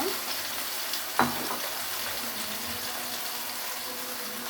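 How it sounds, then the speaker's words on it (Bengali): Pieces of meat fry lightly in a pan with a steady, even sizzle, broken once by a single sharp clank of a utensil against the cookware. "এখন আমি সব কয়েকটা মাংস দিয়ে দেব, হালকা ভেজে নেব।"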